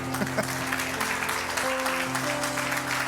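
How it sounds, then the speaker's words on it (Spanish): A church congregation at Ekklesia New York claps loudly and steadily throughout, a dense and continuous wash of applause with sustained musical tones ringing underneath. "Démele un fuerte aplauso al Señor"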